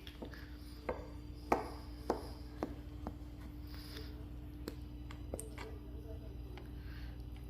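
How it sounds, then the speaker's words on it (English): A knife cuts through a coffee cake in a handful of short, soft taps and thuds against the pan or board, scattered and fairly quiet over a low steady hum. "So 2 slices vertical and then 2 slices horizontal."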